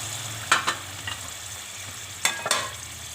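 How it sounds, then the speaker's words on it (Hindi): More than a kilo of chicken fries in hot oil in a karahi for Peshawari Shinwari chicken karahi, a low even sizzle broken by a few sharp metallic stirring scrapes close by. "इसके अंदर हम लोगों ने तकरीबन 1 किलो से ज़्यादा चिकन है, इसको डाल के फ्राई करना है।"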